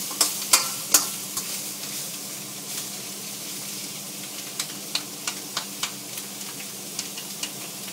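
Veal strips cook in a wok with a continuous hot sizzle, punctuated by sharp clacks of stirring and tossing spread through the clip, with no speech.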